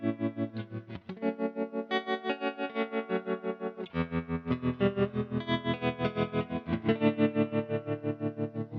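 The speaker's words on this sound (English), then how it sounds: "I really like the tremolo sound of it." Electric guitar through a uni-vibe style pedal set to tremolo, chords pulsing in a steady rapid throb of volume, close and moderately loud, playing alone.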